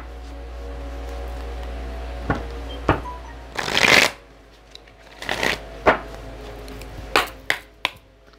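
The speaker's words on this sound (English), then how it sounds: "let's pull some cards and let's see what's going on here" Tarot cards being shuffled and pulled: a loud riffling burst, then scattered snaps and flicks of individual cards slapping down, close and crisp with a low hum underneath.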